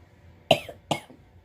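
Two short, sharp coughs about half a second apart from a person ordering food, close and fairly loud against a quiet background.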